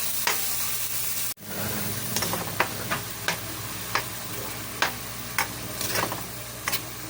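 Ground meat for adobo cooks in a pan with a soft, steady sizzle, broken by a sharp clunk early on and then a series of light taps and stirring scrapes, fairly quiet and close, with no talking.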